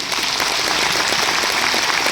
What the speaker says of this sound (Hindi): एक बार मैं चाहूंगी उनके लिए जोरदार तालियां